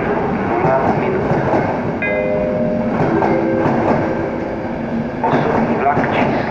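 A passenger train pulls into a platform at Praha-Vršovice station, giving a loud continuous rumble with wheel clatter and brief squealing tones. A voice is heard over the train noise.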